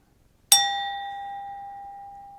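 A single strike of an empty glass, held by its base, with part of a metal spoon, giving a sharp clear ding close up that rings on as a pure sustained tone, slowly fading, with nothing else heard.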